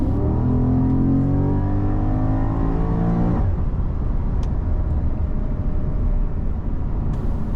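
A 2015 Porsche Panamera GTS's 4.8-liter naturally aspirated V8 engine revs up loudly with a rising, rich roar, then cuts off into a low rumbling idle with some background noise.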